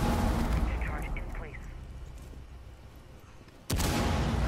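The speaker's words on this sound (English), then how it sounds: "Oh, that's like a wall breach." Rainbow Six Siege gameplay with rumbling gunfire and blasts under speech, then a sudden loud wideband wall-breach explosion near the end that stays sustained and loud.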